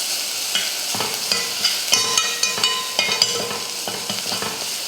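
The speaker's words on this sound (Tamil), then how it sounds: "சேர்த்துட்டு இதை வதக்கிடுவோம்." Red chillies, curry leaves, turmeric and asafoetida sizzle and fry in a pan, stirred with a utensil that scrapes and taps the metal in short, irregular knocks over a steady crackle.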